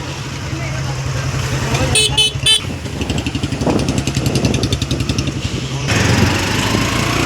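Busy traffic jam at a flooded underpass with engines rumbling and a few short horn toots, a person talking over the noise.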